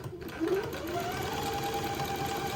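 A domestic sewing machine runs steadily in a zigzag stitch beneath a pleat on a child's daygown, a continuous close, fairly loud mechanical whir with a rising motor tone.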